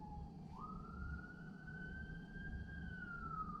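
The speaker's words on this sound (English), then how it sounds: "You hear that back there? Sirens?" A single emergency vehicle siren wails in a city, rising into a long sustained tone over a steady low rumble of street traffic, heard at moderate distance with no voices.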